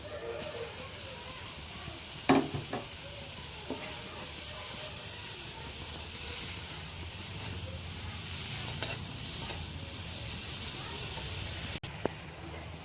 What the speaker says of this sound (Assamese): এতিয়া মছলা আৰু বিলাহীকণ ভালদৰে ভাজ খালে তাতে দি দিছোঁ টেঙামৰা পাতখিনি।